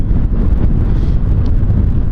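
Strong wind at Buttertubs Pass buffets the microphone in a constant, heavy low roar with no other clear sounds.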